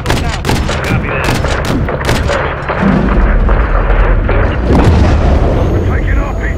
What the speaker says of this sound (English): We're taking RPG fire.